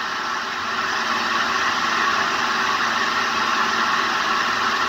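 A 1955 Frigidaire Imperial Unimatic automatic washer goes into its spin cycle with a steady, loud, unbroken mechanical whir and hum that holds an even level throughout.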